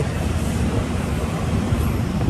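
Tezgam Express passenger train rolling along, heard from inside a carriage as a steady low rumble and rattle of wheels on track, continuous and fairly loud with no talk.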